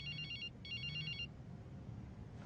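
A telephone in a mall rings with two quick bursts of a bright electronic trill separated by a short gap, fairly faint over a low background hum, with no speech.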